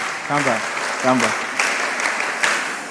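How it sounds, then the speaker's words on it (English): An audience clapping in response to a call to applaud at a mentorship session, with scattered claps heard under a voice that talks over the first part. "Oh, wow, that's a nice clap."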